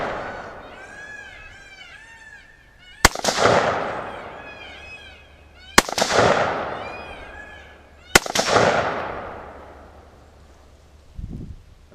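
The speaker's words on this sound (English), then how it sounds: "go about firing this rifle, and we'll fire it downrange" Three sharp, loud .223 rifle shots from Tula ammunition fire downrange at a shooting range, each booming crack trailing off in a long echo, with a faint whistling tone in the background and a soft thump near the end.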